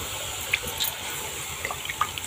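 Water trickles and drips while a home meal of pea and potato curry is cooked, a soft steady flow with scattered small splashes and drips, no talk.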